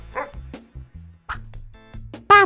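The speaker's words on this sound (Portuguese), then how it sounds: "Cachorro." A dog gives several short, separated yips and barks in a quiet setting, close and alone, ending with one louder bark.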